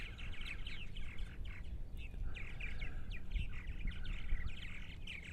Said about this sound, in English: Purple martin, North America's largest swallow